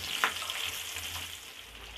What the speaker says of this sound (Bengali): পেঁয়াজটাকে আমি হালকাভাবে ভেজে নিব।